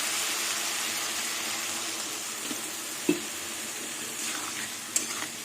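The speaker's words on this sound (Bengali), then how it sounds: "এবার কিছুক্ষণ আবার কষিয়ে নেব" A rohu fish curry with taro sautéing in a pan gives a steady, soft sizzling hiss throughout, with a few faint clinks from stirring.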